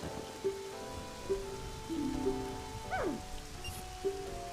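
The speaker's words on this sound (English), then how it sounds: "he has to race while it's raining" Rain falls steadily during a race in a dog racing video game, a soft hiss under tonal game music and chimes.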